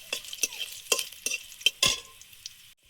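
Dried chili, chopped garlic and fenugreek tempering in hot oil for a yogurt-aubergine dish, crackling in a string of sharp, spaced pops and sizzles, close and bright, with a louder burst near the end.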